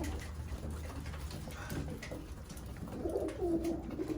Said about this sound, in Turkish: Şunlar Irak kuşlarımız.